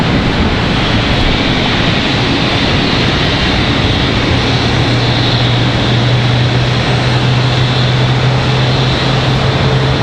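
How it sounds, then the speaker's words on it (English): An airliner at Charlotte Douglas airport gives a loud, steady, broadband jet engine roar with a low droning tone throughout, heard close and continuous for the whole stretch with no talking. "So here's that pushback we were talking about a moment ago."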